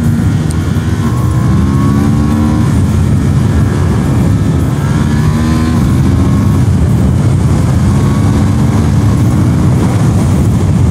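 A 2023 Honda Hornet 750 motorcycle ridden along winding roads with long curves, its engine droning loud and steady with rising and falling pitch as it accelerates and shifts, plus continuous wind rush.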